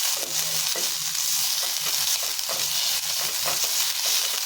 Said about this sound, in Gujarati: તો હવે આપણે મેથીની ભાજીને અહીંયા થોડી કૂક કરી લઈશું।